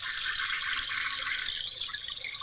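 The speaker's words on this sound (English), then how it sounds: "I found the flushing toilet sound effect." Toilet flush sound effect played during a Chicago Cubs postgame show, a brief loud rushing hiss of water that holds steady for a couple of seconds, with no speech over it.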